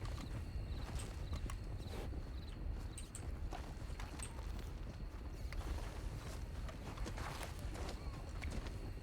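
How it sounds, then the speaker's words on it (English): Many horses' hooves clatter together in Red Dead Redemption 2, a dense, continuous rumble of clip-clop that holds steady throughout and is moderately loud. "That's a lot of horses."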